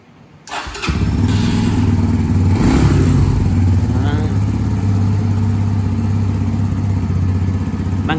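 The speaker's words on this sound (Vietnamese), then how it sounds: "Rồi, mình nổ máy cho anh em nghe ha." A red 2020 Brixton Cafe Racer 150 motorcycle starts up after a brief moment of quiet, then settles into a loud, steady idle with a few light revs, heard up close.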